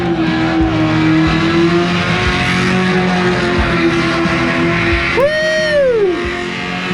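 During a burnout at the Hoonigan Burnyard at SEMA Las Vegas, a car engine is held near the limiter in a loud, sustained drone with rhythmic pulses, then a sharp rev sweep rises and falls near the end.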